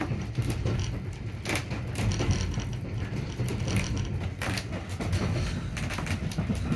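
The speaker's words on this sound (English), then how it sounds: "As the train drives by, you can hear and feel every creak and crack in the cabin" Creaks, clicks and rattling mechanical noises inside a steam train cabin on the Ecclesbourne Valley Railway, irregular knocks and squeaks over a steady rumbling ride.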